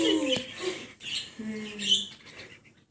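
A bird gives a few short chirps and tweets at close range, mixed with rustling and brief indistinct voices in the background.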